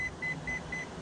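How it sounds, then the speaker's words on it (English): A Redcat Kaiju EXT RC monster truck on a 6S battery powers on and gives four short, evenly spaced electronic beeps, clear and close over a quiet background hum. "Truck on, and listen to the beeps."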